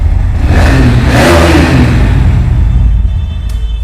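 A motorcycle engine starts and revs up loudly with a rising whine, then settles into a steady low rumble, close by, at a bike showroom in Kolkata.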